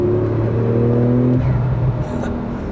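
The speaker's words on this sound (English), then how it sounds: "Turbo noises all day." A Porsche 911 Turbo S engine pulls hard from inside the car, a loud droning rise in pitch with turbo whir, then easing off as a faint whistle flutters.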